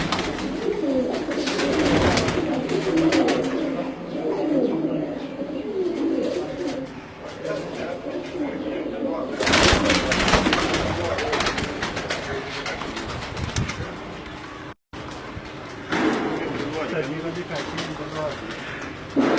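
Pigeons coo repeatedly inside a loft where flying pigeons are kept, with soft rolling calls running under nearly constant nearby talk and occasional louder rustling bursts.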